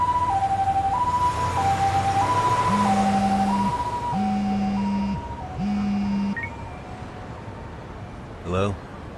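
Ambulance siren in the video game Lost Judgment, a loud two-tone wail alternating steadily and joined by a lower pulsing horn tone, with the siren fading toward the end.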